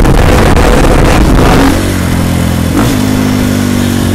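A motorcycle engine while riding downhill, a loud, close, steady drone with a brief throttle change midway and rushing wind noise, no talking.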